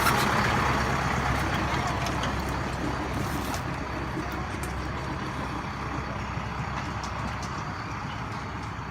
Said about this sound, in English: There's also a really cool tractor ride.